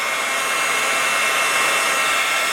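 Heat gun blowing hot air, a loud, steady high-pitched whooshing roar of fan and airflow held at constant intensity, close up with no talking.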